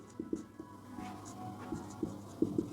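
A pen scratching out notes on paper in a classroom, soft close strokes and taps in an uneven rhythm, faint against quiet room tone.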